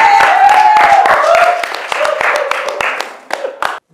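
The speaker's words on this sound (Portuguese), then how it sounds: "uma salva de palmas aí, pessoal." A short burst of scattered hand clapping from a small group, mixed with loud cheering voices, then an abrupt stop.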